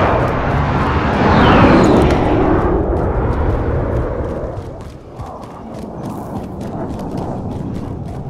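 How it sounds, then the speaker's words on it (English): A precision airstrike in Call of Duty: Warzone lands as a loud, rumbling roar of jet engines and blasts that swells early, dips, then settles into a lingering rolling rumble with scattered crackles. "Be advised, friendly precision airstrike inbound."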